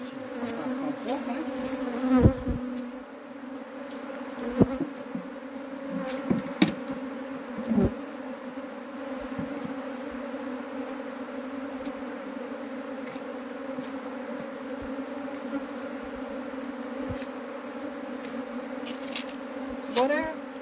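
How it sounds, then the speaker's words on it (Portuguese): A honeybee swarm buzzes continuously after being transferred into a hive, a dense steady droning hum close by, broken by occasional knocks and rustles. "Enxame transferido com sucesso."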